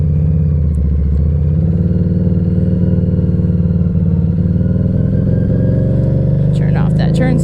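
A Harley-Davidson motorcycle engine runs loud and close with a steady rumbling throb while being ridden, holding a constant drone with a slight rise in pitch and some clatter near the end.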